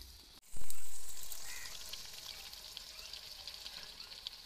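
Onions dropped into hot ghee in a pan in a village home kitchen burst into a loud, sudden sizzle that slowly eases into a steady crackling hiss.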